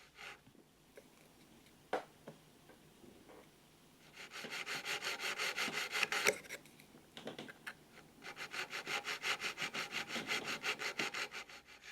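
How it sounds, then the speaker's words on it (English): Coarse diamond file rasping across a marking gauge pin, held horizontally: two sustained bursts of rhythmic back-and-forth filing strokes, close and fairly loud, after a few quiet scrapes and knocks. "I'm using the coarse diamond file, keeping it horizontal in 2 dimensions"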